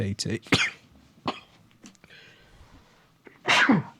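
A person sneezes sharply and close at the end, after a few throat sounds and a cough amid faint background noise.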